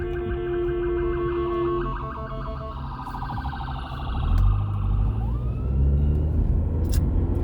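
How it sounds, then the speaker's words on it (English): A wailing siren rises and falls, loud and close at first, with traffic rumbling beneath as the vehicle moves past. "That was an ambulance."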